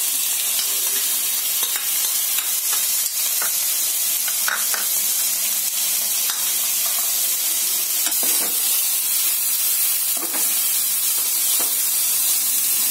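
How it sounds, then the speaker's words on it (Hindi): Chopped vegetables for a hot and sour soup sautéing in a pan, a steady close sizzle and hiss with occasional scraping stirs and clinks running evenly throughout. "जितनी भी सब्जियां मैंने काट के रखी थी, अब सभी को डाल के इसे हल्का भून लेना है।"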